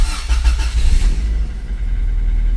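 A Honda Civic EF9/ED7 engine starting by push button, heard as a brief cranking whirr that catches into a loud, close, low engine rumble settling toward idle.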